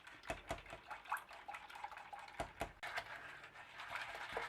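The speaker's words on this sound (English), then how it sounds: "So I'm just going to whisk slowly and pour it in." A whisk clicks and swishes through coconut milk in a pot as agar powder is poured in, quiet and close, with light scraping and sloshing in an irregular rhythm.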